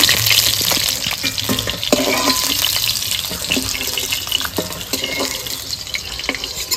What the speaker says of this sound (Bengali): যে শোল মাছগুলো ভালো করে ভেজে নিয়েছি, এবার তুলে নেবো।